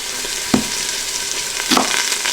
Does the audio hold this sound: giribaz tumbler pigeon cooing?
no